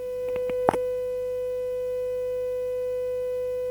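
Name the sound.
500 Hz tone from a speaker driven directly by an oscilloscope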